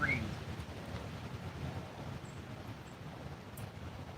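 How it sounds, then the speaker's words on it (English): Steady wind rushes through trees at an outdoor fishing spot, a continuous low broadband roar with no voices. "You guys can probably hear that wind in the background of those trees"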